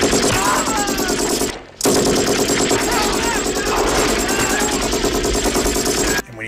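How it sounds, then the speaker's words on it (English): Dense, continuous machine-gun fire and explosions from the action film Commando, loud and chaotic with two brief cuts to silence, with voices mixed into the barrage. "is it just all gunfire?"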